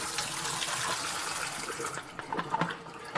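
Liquid is poured out of a film developing tank, a continuous close splashing gush that grows more uneven and gurgling toward the end, with no speech.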